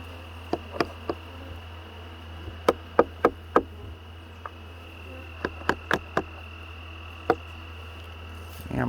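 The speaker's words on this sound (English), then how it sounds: "I'm seeing bees come in and out where they've chewed something right there." Honeybees fly around a chewed gap at a hive entrance, giving a faint, continuous buzzing hum broken by scattered sharp ticks and taps, with no voices.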